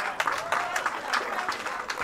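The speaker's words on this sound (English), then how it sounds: "Give these two young men a round of applause" Brief applause for two young finalists at a junior road tennis tournament, scattered claps close by while a voice talks over them.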